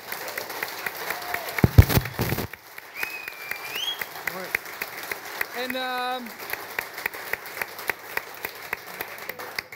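A television studio audience gives a scattered round of applause, with sparse, uneven claps running under a voice and other brief sounds, fairly faint and thin rather than a full ovation.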